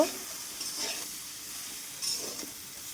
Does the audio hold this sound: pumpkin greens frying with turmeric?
yes